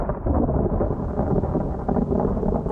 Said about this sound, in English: Thunder was roaring in the distance as the skies grew dark.